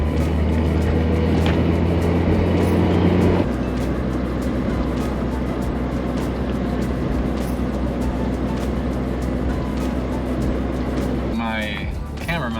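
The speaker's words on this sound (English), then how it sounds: "we're just gonna take a little drive around town" A Volkswagen Rabbit car drives around town, its engine and road noise a steady loud drone throughout, with a shift in tone partway through and a brief burst of wind or rattle near the end.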